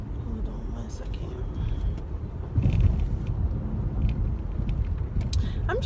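A car being driven, a steady low road rumble and engine drone running throughout, with a brief louder swell near the middle and faint talk over it.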